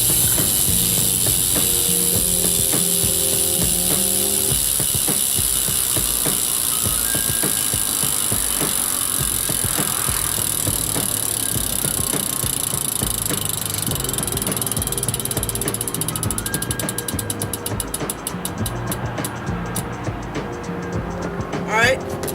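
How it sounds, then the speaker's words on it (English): BMX bike rear hub ratchet buzzing with rapid continuous clicking as the wheel freewheels, fairly loud and steady, with some background noise. "And here's a hub sound."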